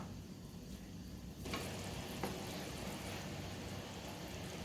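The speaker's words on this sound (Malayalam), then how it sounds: "ഇത് നല്ലോണം തിളച്ച് വന്നിട്ടുണ്ട് കേട്ടോ" Punjabi kadhi gravy bubbles and simmers in a pot on the stove, a soft continuous hiss that grows a little louder partway through, with one faint tap.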